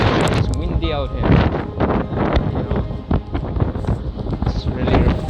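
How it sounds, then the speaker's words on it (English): Strong wind at Kanyakumari beach buffets the microphone in loud, gusty rumbles, with people talking close by throughout. "It's windy out here."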